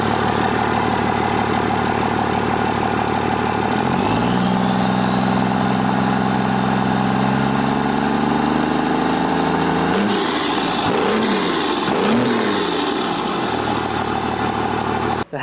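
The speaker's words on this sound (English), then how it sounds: "So let's hear what it sounds like whenever we start it up." A truck engine fitted with a 6-inch TSO exhaust tip runs loud and steady, shifts into a deeper rumble a few seconds in, then gives several quick revs before settling, with no talking.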